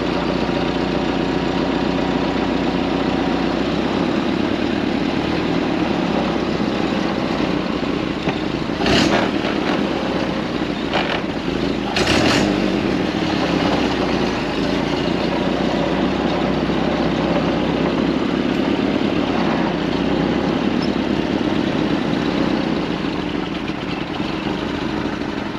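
A 1929 Ford Model A Speedster engine idles steadily for a long stretch, a close, even mechanical chug with a low rumble and a couple of brief sharper bursts midway.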